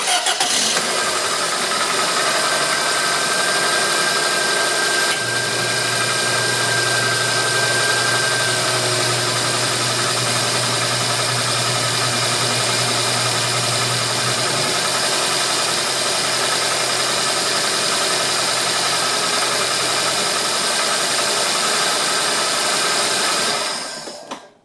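A car engine cranks and catches, then idles steadily for about twenty seconds with a phone taped to the engine, a loud, even hum with a low drone partway through before it shuts off.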